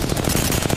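Rapid automatic gunfire from an Apex Legends firefight, loud, close and continuous, with dense bursts of shots packed tightly together over a short stretch and no voices.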